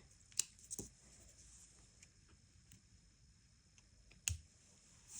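Beading thread snipped with small scissors, two faint, sharp clicks a few seconds apart in an otherwise quiet close-up setting, with no talking.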